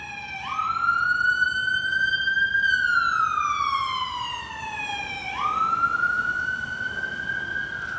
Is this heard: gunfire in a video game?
no